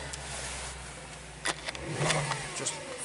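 An Audi S5 coupe's 4.2 V8 idles with a low steady drone, then a quick throttle blip lifts into a brief roar before easing back, heard close up with no one talking.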